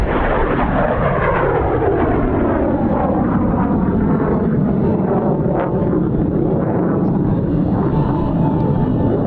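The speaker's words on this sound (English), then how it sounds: "The burner is lit, and here comes the pull." A MiG-17 jet fighter roars past low with its afterburner lit during a Vietnam-era flight demonstration at an air show, a loud, continuous broadband rumble with a sweeping pitch shift as it passes, heavy with wind noise.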